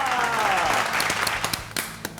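Studio audience applause for film stars at a comedy show promotion, a loud dense wash of clapping with sharper claps poking through, mixed with a fading tone and a voice faintly underneath.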